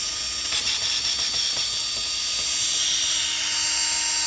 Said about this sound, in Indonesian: Dan kita tes untuk buka skrupnya.